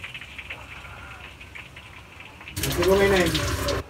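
Water gushes steadily into a pot for cooking rice, starting suddenly after a quiet stretch of faint background noise and running loudly and close for over a second before stopping.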